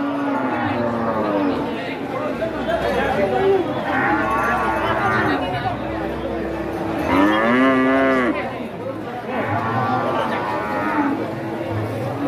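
Cattle low repeatedly at the busy Tuban cattle market, a crowded Sunday-morning livestock sale, with long drawn-out moos rising over constant crowd chatter and voices.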